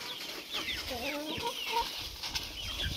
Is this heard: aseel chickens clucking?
yes